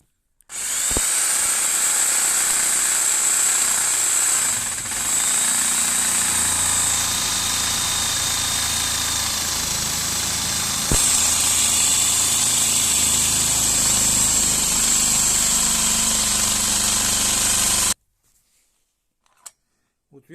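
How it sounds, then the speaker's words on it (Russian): An electric jigsaw cuts a wooden handle with a steady, loud, buzzing whine that runs without a break for about seventeen seconds, then stops abruptly and leaves near silence. "Значит, вставляем лобзик сюда."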